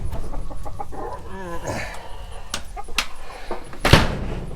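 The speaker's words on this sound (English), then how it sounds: "The chickens are going to be a big help to us." Backyard chickens at an off-grid tiny house cluck in scattered, irregular bursts close by, with rustling and a sharp knock or door-like bang near the end.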